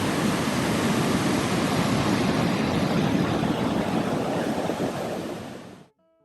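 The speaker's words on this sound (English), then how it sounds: "nearly dodging the waves, from the big North Sea rollers that continued breaking." Steady, loud roar of big North Sea waves breaking on the Northumberland coast, with heavy surf wash and wind, continuous until it cuts off abruptly near the end.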